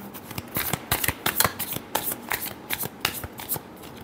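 A deck of tarot cards being shuffled by hand, a quick run of crisp riffling flutters and soft slaps repeating through the whole stretch, close and fairly loud with no voice over it.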